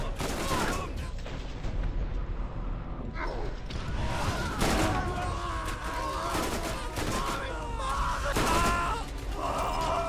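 Gunfire in the video game Borderlands, with dense rapid bursts and fusillades mixed with game effects, groans and screams over ten seconds of loud combat.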